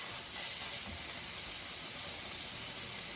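Onions sautéing in a pan for a Sri Lankan Tamil mutton gravy give a steady, close hissing sizzle that stays even throughout with no voices.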